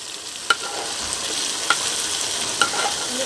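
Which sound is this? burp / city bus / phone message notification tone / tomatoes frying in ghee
tomatoes frying in ghee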